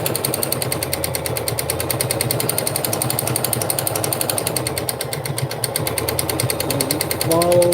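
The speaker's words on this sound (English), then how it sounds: "I'll go through the back stitch first, and basically, you just sew." Sewing machine stitching fabric while making a pattern, running steadily at close range with a rapid, even mechanical chatter through the whole stretch and a voice at the end.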